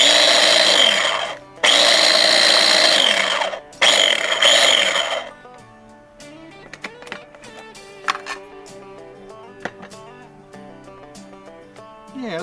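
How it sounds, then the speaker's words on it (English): A food processor pulses in three short, loud whirring bursts, mincing a skirt steak marinade with olive oil, followed by quieter clinks and handling sounds of the bowl. "So we'll zap it here a few times and get it minced down here."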